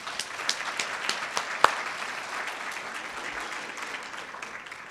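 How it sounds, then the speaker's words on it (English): Audience applause at a Teacher of the Year awards dinner in a hotel banquet room, a steady wash of many hands clapping that starts with a few sharper claps, then holds even and fairly quiet for the whole stretch. "Oh, you can clap for that."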